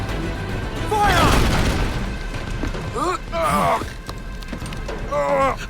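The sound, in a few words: ship cannons firing in the video game Assassin's Creed Black Flag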